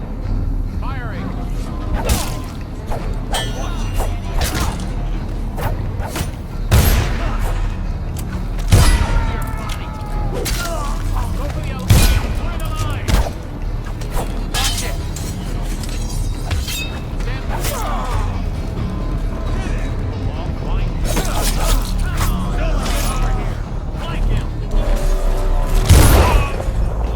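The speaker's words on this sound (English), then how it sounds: "Firing." Gunfire and crashes in the stealth game Dishonored, scattered loud shots and impacts with whooshes, mixed with game voices and ambient action throughout.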